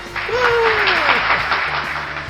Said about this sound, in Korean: 환호와 박수로 우리 한번 시작해 볼까요